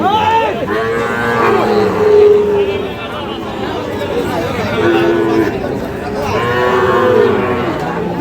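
Several Sahiwal bull calves moo in drawn-out calls, close by, over a background of people chattering at the Ambari cattle market.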